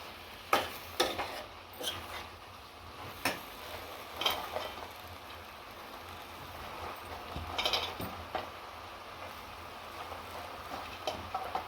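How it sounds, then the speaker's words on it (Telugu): A spoon stirs fenugreek leaves and broad beans into a curry in a pan, giving soft intermittent scrapes and clicks over a faint sizzle, close by and alone. "మంచి కలుపుకోవాలి మొత్తం మెంతి కూర చిక్కుడుగా కలుపుకోవాలి"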